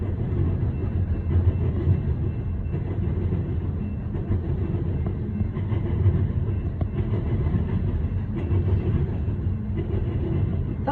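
A southbound coal train rolls past at Hoxie, a steady, loud, continuous rumble of heavy railcars clattering on the tracks with no break throughout.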